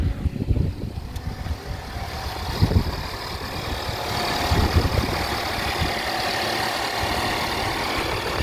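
A KGM Actyon's engine, not fully cold, idles steadily at close range, a low continuous rumble with a few slight revs early on, no talking over it.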